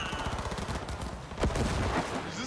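Rapid automatic gunfire in a Cyberpunk 2077 firefight, a fast stream of loud, close shots with a heavier burst partway through.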